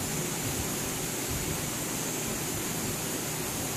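An aerosol can sprays a clear finish coat onto a fireplace mantel being refinished in espresso, a steady continuous hiss held for several seconds with no break.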